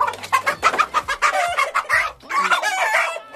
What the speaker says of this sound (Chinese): 抓着大公鸡真带劲呐！